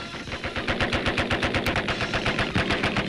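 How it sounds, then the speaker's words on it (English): Rapid bursts of machine gun fire from a 1938 Sino-Japanese War battle near Hankow, a steady close rattle of repeated shots pounding on for the whole stretch without pause. "The attackers take up strategic positions and bring their machine guns into play."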